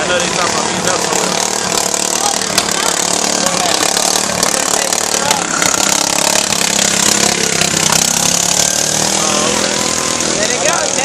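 Racing lawnmower engines running loud and close, a dense buzzing, rasping drone holding steady throughout, with people talking beneath the noise.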